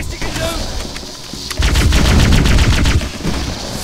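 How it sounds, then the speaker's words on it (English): A plasma rifle fires in Halo CE, letting off a loud, rapid stream of shots for about a second and a half amid ongoing game noise. "Let me use this plasma rifle."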